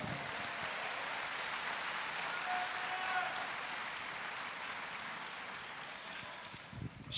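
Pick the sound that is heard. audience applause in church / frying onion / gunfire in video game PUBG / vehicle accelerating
audience applause in church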